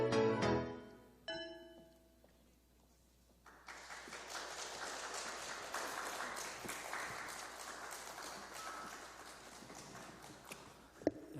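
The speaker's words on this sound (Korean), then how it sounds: "다시 한번 우리 감사의 박수 한번 올려드리겠습니다" An audience at a church mothers' prayer meeting in Vancouver gives sustained applause of thanks, rising after a brief musical note and lasting several seconds, fairly distant and even.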